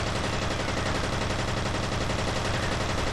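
Automatic turret fire in F.E.A.R. Extraction Point: a dense, unbroken burst of rapid gunshots that fills the whole stretch, loud and close with no pauses and no talk.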